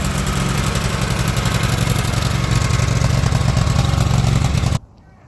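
A stump grinder's engine runs steadily and loud in a dense, even drone for nearly five seconds, then cuts off abruptly into near silence. The machine has worn-out tires and leaking hydraulics.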